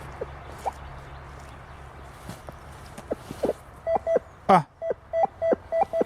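Metal detector (Rutus Atrex, multi-frequency mode) searching in a wild forest gives a run of short, repeated beeps over a buried target, growing regular toward the end, with faint rustling and one louder electronic chirp in between.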